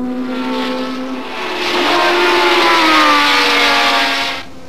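Formula 1 racing cars roar past at close range, Villeneuve's Ferrari overtaking two Renaults: a loud, high-pitched engine howl swelling as the cars approach and shift, then fading away.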